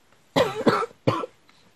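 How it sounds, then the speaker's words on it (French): Two bursts of harsh coughing close to the microphone, the first a quick double cough and the second a single hack, with quiet gaps between. "je recommence à tousser énormément"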